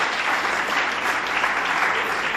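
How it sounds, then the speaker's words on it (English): A conference audience breaks into a steady round of applause, many hands clapping in a dense, even burst at fairly close range with no talking. "such a great cause deserves a big round of applause,"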